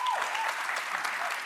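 Studio audience applause fills the room as a steady, moderately loud patter of many hands clapping together, sustained for a moment before easing slightly.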